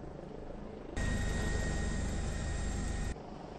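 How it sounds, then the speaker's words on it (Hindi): Rescue helicopter hovering over a burning building during a fire rescue, its steady rotor thump and engine whine starting abruptly, holding loud and even for about two seconds, then cutting off into a lower background rumble. "इसके बाद एक हेलीकॉप्टर हादसे वाली इमारत के ऊपर मंडराने लगा।"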